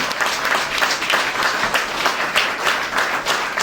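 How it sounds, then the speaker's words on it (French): An assembly applauds Haitian Olympic athletes with loud, warm, sustained clapping from a large crowd, even and continuous without pause. "je demande à toute l'Assemblée vraiment d'applaudir chaleureusement, très fort, ces gens-là qui vont représenter le pays"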